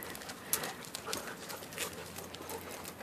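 A dog out on a walk, making faint, sharp, intermittent sounds at a distance against steady outdoor background noise.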